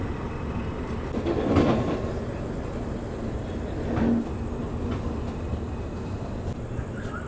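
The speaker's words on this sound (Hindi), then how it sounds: "अपनी तमिलनाडु एक्सप्रेस निकल रही है भाई" Tamil Nadu Express pulling out of MGR Chennai Central station at night, a steady rumble of rolling coaches with faint wheel clatter, heard from inside the train.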